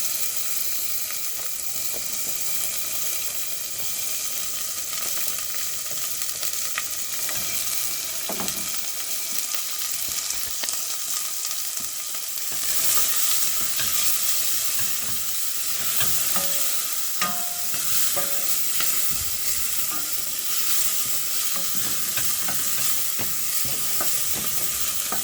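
Onion and garlic fry over low to medium heat in a pan, a long steady sizzle with repeated scraping and stirring of a utensil against the pan.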